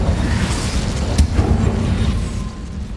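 An Incendio fire spell goes off in Hogwarts Legacy as a dense, roaring burst of low rumble and crackle, with a sharp flare in the middle, holding steady and loud for the whole stretch.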